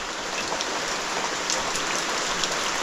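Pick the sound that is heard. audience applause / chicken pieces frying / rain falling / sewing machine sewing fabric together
rain falling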